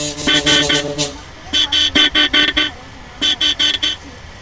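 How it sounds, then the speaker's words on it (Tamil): A car horn in a driving video game honks in three bursts of quick, evenly spaced toots, four to five per burst, loud and clear over a faint engine hum. "ஹார்ன்லாம் செம்மையாக இருக்கும்."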